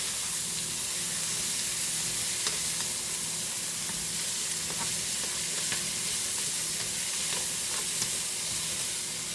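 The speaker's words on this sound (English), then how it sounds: "I'm going to stir them around a little bit so that they all get coated with some butter" Potatoes sizzle and crackle steadily in butter in a pan over medium-high heat, with close scraping as they are stirred around and occasional sharp pops.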